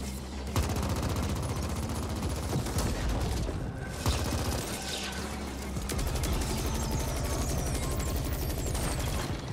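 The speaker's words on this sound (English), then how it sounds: "It's a laser rifle, it sucks." Rapid, sustained laser rifle fire in The Ascent, a dense stream of repeated shots rattling continuously over a busy game soundscape of mechanical clatter and low rumble, loud and close throughout.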